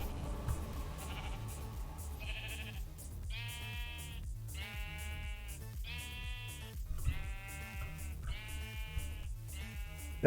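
Sheep in a Minecraft modpack game bleat repeatedly, a run of about six evenly spaced, clear synthetic bleats, loud and alone over a faint background.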